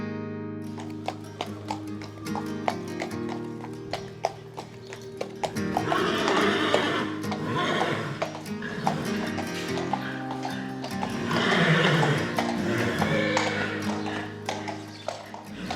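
Friesian horses moving about, with steady hoof clip-clops and an occasional neigh or whinny over a dense background that swells twice, around the middle and toward the end.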